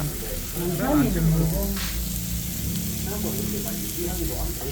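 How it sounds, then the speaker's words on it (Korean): Pork belly sizzles steadily on a hot grill in a Korean restaurant, a constant crackling hiss with a voice talking briefly over it in a busy room. "지글자글자글자글 맛있게 생겼죠"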